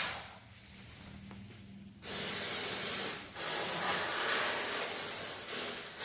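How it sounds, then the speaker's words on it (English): Fluid Film rust protection being sprayed with a special tool inside the enclosed areas of a rust-damaged vehicle: a quiet hiss at first, then loud continuous spray bursts with a short pause between them, close by. "He's spraying inside the enclosed areas with the special tool."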